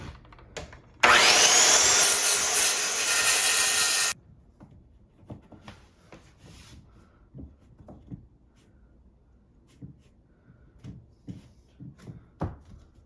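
A power saw trims a rigid core vinyl floor plank in one loud, steady cut lasting about three seconds, followed by quiet scattered clicks and handling noises.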